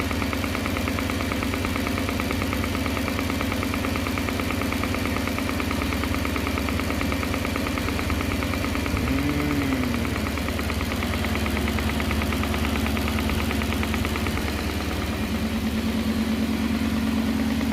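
A 1969 Gloria's supercharged V8 idles on its first proper start, a steady, loud, close rumble with a rapid ticking knock running through it and a brief whine shifting in pitch partway.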